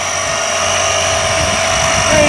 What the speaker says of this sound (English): You can hear the compressor kick in.